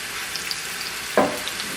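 Zucchini noodles hit a hot pan, and a short burst of sizzling breaks out over a faint kitchen hiss.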